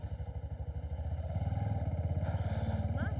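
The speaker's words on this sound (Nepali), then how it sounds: "अब यो बाइकको साउन्ड आइरहेछ कि छैन त्यो चेक गर्ने" Motorcycle engine running steadily close to a wireless mic while riding, a rhythmic low throb that swells slightly louder partway through, with some wind rush and no talk.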